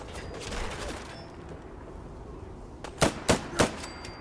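SIG MCX rifle from a Fallout 4 mod fires three loud, sharp shots in quick succession, each with a short decay, after a stretch of quiet game ambience.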